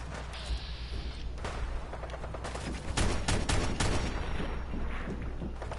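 Rapid gunfire during a fight with raiders in Fallout 4, a dense run of sharp cracks and bursts, loud and close, building in the middle of the clip over a low rumbling background.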